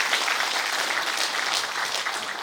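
Steady, dense applause from an audience at a Buddhist book-launch ceremony in Busan, continuous and fairly loud throughout with no speech over it.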